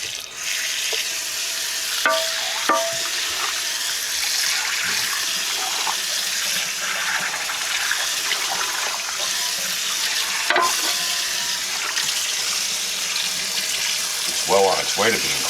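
Water running into a kitchen sink while a greasy, burnt pan is rinsed, a steady broad hiss throughout with occasional clinks and knocks of the pan and brief handling sounds.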